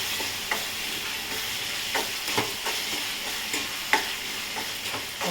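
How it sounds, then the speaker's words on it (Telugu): Prawns are tipped into a village-style curry frying in oil, then stirred. A continuous loud sizzle runs underneath, with occasional utensil scrapes and knocks, and no voices. "ఇప్పుడు మనము ఈ రొయ్యలు వేసేసుకోవాలండి."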